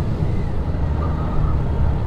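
Motorcycle riding the curvy mountain road of the Tail of the Dragon, its engine a steady, close, low drone with rushing wind and road noise that runs throughout without a break.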